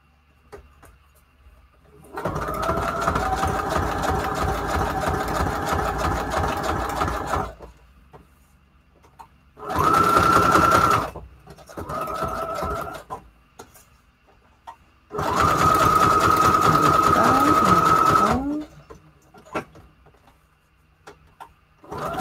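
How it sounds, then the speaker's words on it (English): Sewing machine stitching around a photo on a paper junk journal page, running in three bursts of steady motor whir with pauses between, close and clear with no talking. "For this one, I think I'll just sew around the photo because it is in the middle and it'll hold everything together."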